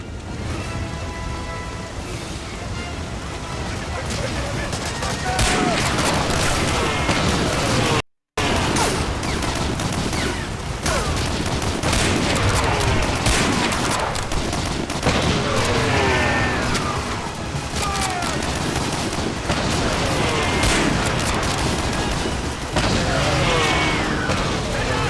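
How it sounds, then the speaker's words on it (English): Medal of Honor Warchest game audio carries dense, loud gunfire and booming explosions in continuous rapid bursts, with a brief dropout partway through and no talk. "And just like that, they killed me with an explosion."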